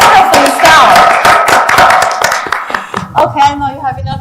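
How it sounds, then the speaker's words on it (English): A conference audience at a women's leadership event in Dubai claps in a ragged burst of sharp hand claps, with a voice talking over and after the applause. "Let's clap for yourself."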